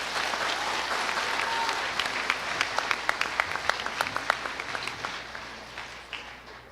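A crowd at a high school graduation breaks into applause, building to a burst of scattered clapping and then tapering off.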